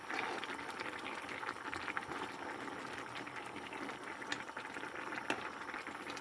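Korean cheonggukjang stew with garlic and chili boils steadily in a pot, a continuous bubbling and popping that stays even and fairly close throughout, with no voices.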